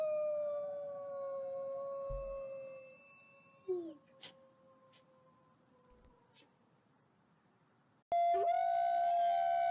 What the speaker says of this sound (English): let's do gray wolf howling